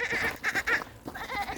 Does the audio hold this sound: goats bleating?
yes